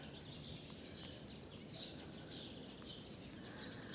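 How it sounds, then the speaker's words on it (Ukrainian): Jays calling outdoors after rain, a chorus of harsh chirps and squawks scattered through the clip over a steady, fairly quiet background hiss, moderately distant. "Схоже, все-таки, що це сойки."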